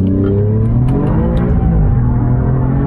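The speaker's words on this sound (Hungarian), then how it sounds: "És még harmadikban is gyönyörűen végig lehet driftelni itt ezt a kanyart." A 2021 Alfa Romeo Giulia Quadrifoglio drifts through a corner in third gear, its engine roaring loud and close with a steady, sustained drone and slight pitch shifts, no voices.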